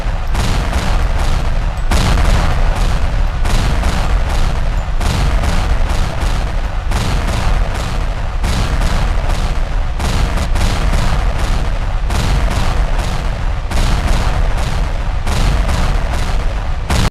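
Repeated loud volleys of gunfire and rocket fire in Sakura School Simulator, arriving as regular rhythmic bursts with brief gaps across the whole stretch and no talk.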